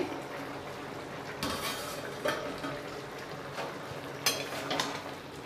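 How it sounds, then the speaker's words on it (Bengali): A metal lid comes off a pot of simmering pumpkin and potato curry with a few light clanks and clinks spaced over a quiet, low cooking hiss. "ঢাকনা খুলে নিচ্ছি"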